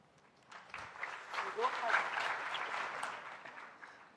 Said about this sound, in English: You don't have to clap compulsory.